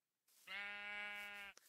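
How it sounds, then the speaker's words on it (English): A single Minecraft sheep gives one clear, sustained bleat lasting about a second, close and alone against a quiet background, followed by a faint short tick. "Stupid sheep."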